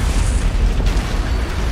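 Antimatter charge detonating aboard a ship in the video game Halo, a loud, sustained booming blast with heavy low rumble filling the whole moment.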